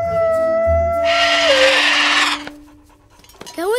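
Dog howling in the Disney Pixar animated film Up, a rising drawn-out tone that slides and fades, over a loud film soundtrack with music and a voice; a brief whine follows.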